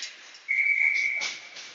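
A referee's backup whistle at a high school lacrosse semifinal gives one sustained shrill blast, loud and clear against quiet crowd ambience.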